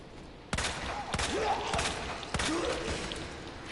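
Handgun shots fired in the survival horror game Resident Evil 2, four sharp, separate reports spaced about a second apart, loud and close over a quiet background with faint creature sounds between them.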